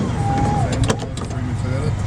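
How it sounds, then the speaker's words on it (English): Power window on a restored 1955 Ford Thunderbird, a brief electric motor whine that rises and stops over a steady low background rumble. "It has power windows."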